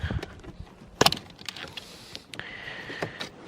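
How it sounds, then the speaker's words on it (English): Spark plug caps being worked off a snowmobile engine with a tool: scattered close clicks, small metallic clatters and one sharp knock, quiet and sparse. "So we're going to pop out our tool, and take off our spark plug caps."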